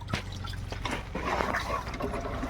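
Water from a fish tank sloshes and pours out with a continuous splashing, gurgling flow, fairly close and steady, with a low hum running underneath.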